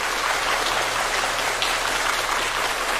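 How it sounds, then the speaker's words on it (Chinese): Long, warm applause from an assembled audience at a ceremony following a call with the Shenzhou-12 astronauts, a steady dense clapping wash that holds evenly throughout without pause. "全场响起长时间的热烈掌声"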